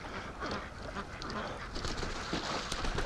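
Ducks at a free-range flock's lakeside give soft, scattered quacks under a muffled outdoor wash of wind and movement, fairly faint and close by.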